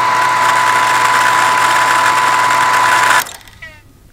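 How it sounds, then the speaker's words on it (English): A rainwater harvesting system pump in a pump house runs with a loud, steady mechanical hum and whine, then cuts off abruptly, leaving quieter faint sounds as it winds down. "you're going to see the pump will turn on"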